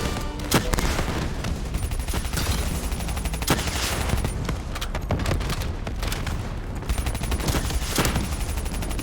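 Sustained gunfire in the Call of Duty Black Ops 3 campaign, loud rapid automatic bursts layered with sharp single shots and heavy booms, continuous and close throughout.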